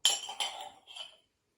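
A spoon clinks against a bowl during pretend play cooking, three light, close taps in quick succession and then silence.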